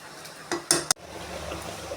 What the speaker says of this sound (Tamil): நல்லா மிக்ஸ் பண்ணி விட்டு மட்டன் வெந்திருக்கான்னு பார்க்கலாம்.